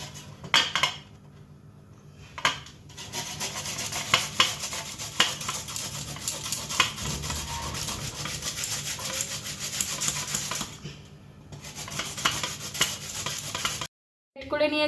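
A whole peeled radish rubbed against a metal grater for lentil bori, a continuous rasping scrape with clinks of metal and short pauses, close and steady.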